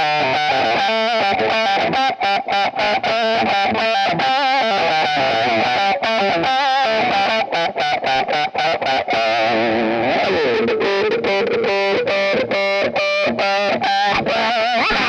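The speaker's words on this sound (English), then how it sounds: "I would start pinning the wah to get a really good mid-focus sound." Electric guitar played through a fuzz pedal and a wah pedal in a gigging rig, heavily distorted and loud, with continuous choppy riffing and sweeping mid-focused tonal shifts, no voices.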